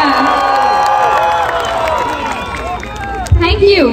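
A crowd at a Kanguva film promotion event in Saudi Arabia cheers and whoops loudly with clapping mixed in. Rising and falling shouts fill the air, and a sharp burst of noise comes near the end.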